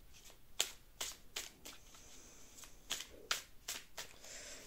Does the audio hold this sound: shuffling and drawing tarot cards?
yes